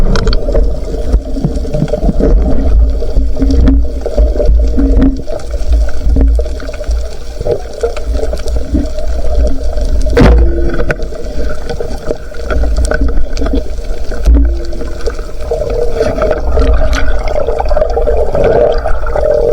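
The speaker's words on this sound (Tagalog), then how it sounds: "Napakalagas ng agos." A strong river current rushes and churns loudly and continuously, with splashing and gurgling water close by and occasional knocks and bumps.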